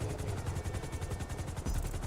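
Police Maverick helicopter in a video game flying steadily, its rotor producing a continuous rapid chopping thump under a broad engine roar, loud and close throughout.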